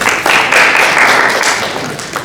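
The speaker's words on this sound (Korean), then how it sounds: "큰 박수로 부탁드리겠습니다." Steady broadband applause from an audience at an academic chemistry lecture, rising quickly and holding fairly even across the whole stretch, loud and continuous with no voices over it.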